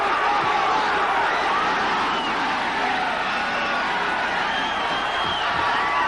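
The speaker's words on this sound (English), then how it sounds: "The crowd urging Chacon on." A packed boxing arena crowd roars steadily for Bobby Chacon during his 1983 bout with Cornelius Boza-Edwards, a dense, loud, unbroken wall of cheering.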